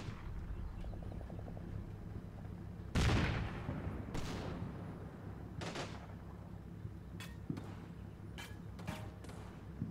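Gunfire crackles in the World War II tactics game Combat Mission Final Blitzkrieg, with one loud close burst followed by scattered shots and sharp cracks at varying distances over a low rumbling backdrop.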